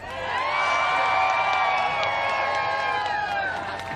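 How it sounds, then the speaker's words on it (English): An audience at a State of the Union address breaks into sustained applause and cheering, a loud, dense crowd roar with whoops that swells and then holds. "So you're going to want to give her a major round of applause."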